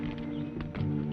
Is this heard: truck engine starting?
no